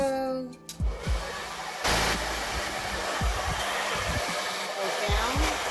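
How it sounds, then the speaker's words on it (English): A blow dryer running close and loud with a steady whooshing roar, used on a liquid pour paint job to pop surface bubbles; the airflow rumbles and fluctuates as it moves. "Okay, I'm gonna just blow the bubbles real quick. Here's my blow dryer."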